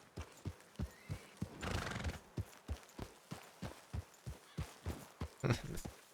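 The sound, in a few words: horses neighing and hooves clip-clopping in a video game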